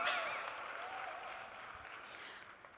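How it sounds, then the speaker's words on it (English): Faint audience applause at a food and music festival lineup announcement, a soft, distant wash of clapping tapering gradually with a few brief voice traces. "It deserves a huge round of applause."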